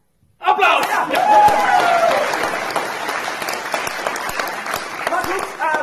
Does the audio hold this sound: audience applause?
yes